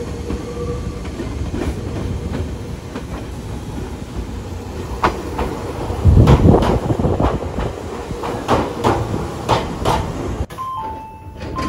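A Nagano-bound 8500 series electric train rumbles in close by, wheels clacking rhythmically over rail joints, growing louder midway with brief squeals before settling.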